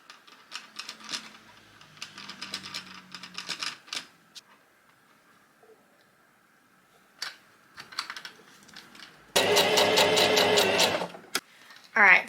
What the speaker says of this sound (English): and then I'm gonna sew it.